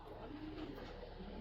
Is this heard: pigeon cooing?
yes